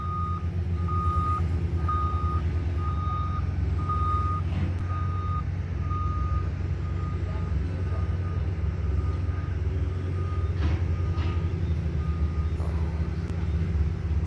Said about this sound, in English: Because I hear trucks down there.